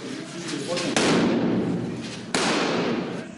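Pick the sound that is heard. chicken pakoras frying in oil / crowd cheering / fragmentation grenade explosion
fragmentation grenade explosion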